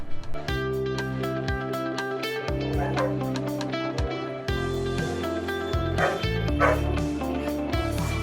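Rescue dogs at a pet rescue bark in repeated, fairly loud bursts throughout, layered over a steady musical backing.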